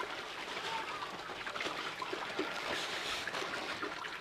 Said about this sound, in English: I'm about to start sluicing at the Natural Bridge Mining Company